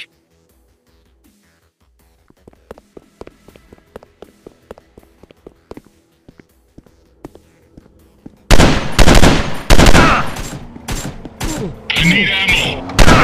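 Gunfire from the mobile shooter Counter Strike FPS: scattered single shots and footsteps give way to loud, dense bursts of rapid automatic fire.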